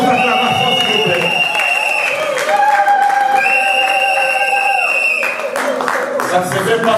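Wedding guests at a Congolese wedding applaud and cheer in a dense, continuous crowd noise that runs under loud music and an amplified voice.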